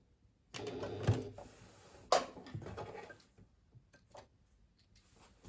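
A sewing machine runs along pouch seams in short bursts, close mechanical clatter with a sharp clack partway through, trailing off into faint ticks and quiet.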